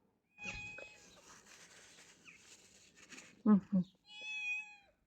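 A cat meows several times, short calls followed by a longer, drawn-out meow, close by against a quiet background with faint rustling.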